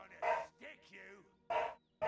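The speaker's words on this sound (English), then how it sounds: "I can only apologize if you can hear the dog barking." A dog barks in loud, sharp bursts nearby, three barks spread over about two seconds, with softer whining or yelping sounds between them.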